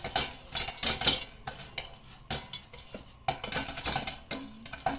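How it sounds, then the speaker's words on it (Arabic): Spoon scraping and clinking in a pot while sugar caramelizes for caramel popcorn, irregular close stirring strokes and metal taps, with a faint sizzle underneath and no talk. "وهنا في التقليب المستمر شايفين السكر بدأ يكرمل اهو معانا، بدأ يكرمل"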